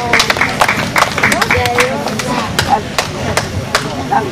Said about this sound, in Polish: Gorące brawa, drodzy Państwo